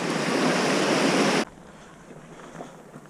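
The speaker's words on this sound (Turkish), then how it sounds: "Bugün bir de yağmur yağdığı için iyice çılgın durumda dere." A rain-swollen creek on the Eastern Lycian Way between Çitdibi and Geyikbayırı roars loudly and close as a broad rushing wash for about a second and a half, then cuts off abruptly to near quiet.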